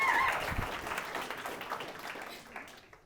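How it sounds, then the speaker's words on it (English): An audience at a book launch claps for a Roman swordsman demonstration, a moderate burst of mixed clapping that starts full, then gradually thins and fades out over about three seconds. "let's give him an applause"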